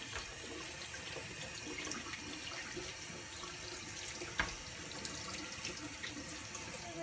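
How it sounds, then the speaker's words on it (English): A running kitchen tap pours water steadily over vegetables being washed in a sink, a continuous hiss of flowing water with a few small knocks and clinks of handling, fairly close and alone. "Wash our vegetable that's going to go into the water"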